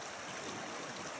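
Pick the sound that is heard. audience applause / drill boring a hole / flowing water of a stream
flowing water of a stream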